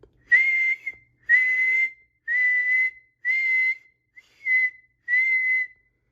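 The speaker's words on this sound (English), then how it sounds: "Suddenly there was a strange whistling noise overhead." Six clear, shrill whistles in a steady rhythm, each lasting just under a second and separated by short silences, standing out alone against a quiet background.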